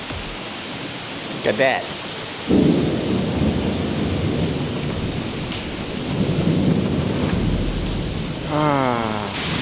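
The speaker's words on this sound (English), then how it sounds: "just look at the rain" Heavy rain pours steadily with deep rolls of thunder rumbling underneath, loud and continuous, while someone speaks briefly over the downpour.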